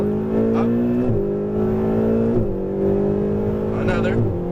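Lamborghini Huracan Performante accelerating hard on a race track, its engine note rising steeply through gears with sharp drops at each upshift, loud and close, an instructor talking over it.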